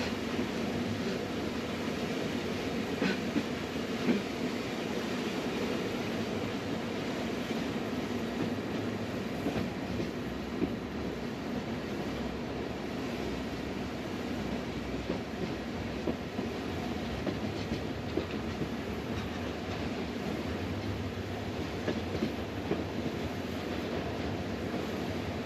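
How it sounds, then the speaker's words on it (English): Bernina Express train crossing the Brusio spiral viaduct, heard from inside as a steady, faint rolling rumble with soft periodic wheel clicks throughout. "The train loops around so it can achieve a steeper climb up the mountain."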